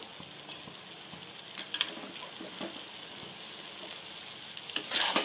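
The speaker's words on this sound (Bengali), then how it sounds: "একটু গ্যাসের ফ্লেমটা বাড়াচ্ছি একটু নেড়ে ছেড়ে নেওয়ার জন্য।" Paneer is stirred in a pan over a high gas flame, with a constant bright sizzle of frying and intermittent scraping utensil strokes. A louder burst of sizzling comes near the end.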